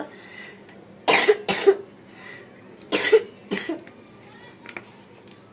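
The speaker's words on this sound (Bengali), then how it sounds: "গলাটা শুকিয়ে গেছে, ওই ঠান্ডা লাগছে তো, মানে জোরে কথা বললেও কাশি উঠে যায়" Several dry, harsh coughs from someone with a dry, sore throat and a cold, in two close pairs with quiet gaps between, near and fairly loud over a low background hum.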